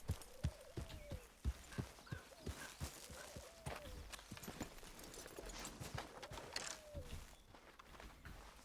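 Horse hooves clip-clop at a walking pace in Red Dead Redemption 2, close and distinct, with a brief whinny-like tone and soft rustling between steps, no voices.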